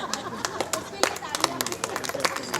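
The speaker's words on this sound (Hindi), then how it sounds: "इसके लिए ताली।" Scattered audience clapping at the inauguration of a women's empowerment chaupal office in Delhi, a loose patter of separate hand claps mixed with someone talking and nearby chatter.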